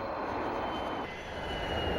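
Steady, broad roar of an airplane's engines during a landing in Dubai, a dense continuous rumble with no gaps.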